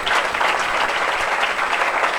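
A church congregation at a Sunday service breaks into steady, dense applause to welcome a pastor, a continuous wash of many hands clapping at close range with no break throughout.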